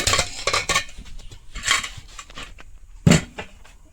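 A pot lid lifted off a pressure cooker on a gas stove after jackfruit cooked with salt, giving several sharp metallic clanks and clatters, with one louder knock near the end, up close and with no talk.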